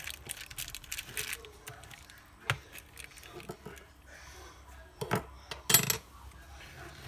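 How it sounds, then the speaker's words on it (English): Utensil stirring food in a hot pot, with light scraping and clinks against the metal and a few sharper knocks, close and fairly quiet. "Now I'm going to have to stir it like this. Stir it all inside there."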